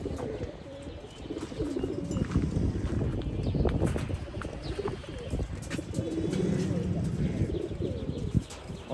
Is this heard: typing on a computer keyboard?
no